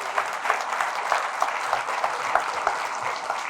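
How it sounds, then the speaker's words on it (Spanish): Congregation applauding in a church after a priest's sermon, a steady dense wash of clapping hands filling the room for the whole stretch. "Fuertes aplausos al Rey de Reyes y al Señor de Señores."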